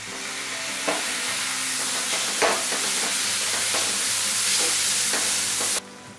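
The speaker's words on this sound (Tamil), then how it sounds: "இப்போ தக்காளி வதங்கி நல்லா எண்ணெய் பிரிய ஆரம்பிச்சிச்சுங்க" Tomatoes with onion, raisins and sugar sauté in oil in a pan for a potato gravy, sizzling loudly and steadily with a few stirring scrapes before the sound cuts off abruptly near the end.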